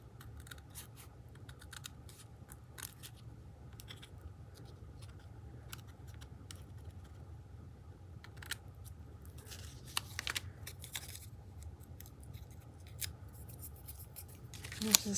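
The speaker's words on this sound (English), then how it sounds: "And I will trim it, or attempt to trim it." Paper being trimmed with scissors for ephemera: quiet, close, intermittent snips and crisp paper rustles scattered over a low background hum.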